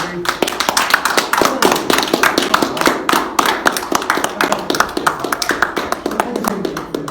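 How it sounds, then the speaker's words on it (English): A crowd at a street hypnosis show claps enthusiastically in a dense, continuous round of applause that keeps up steadily throughout, without speech. "massive round of applause"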